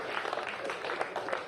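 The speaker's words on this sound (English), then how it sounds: "Big round of applause" Audience applause at a greyhound race night ceremony at Dapto, a brief steady patter of clapping from a crowd, fairly faint.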